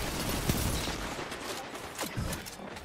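Shotgun blasts in the video game Destiny 2 come as a few sharp, booming reports, roughly two seconds apart, set against dense, continuous battle noise.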